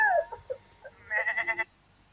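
A series of high, wavering bleats like a goat, the last one a quick trembling call, with silence after.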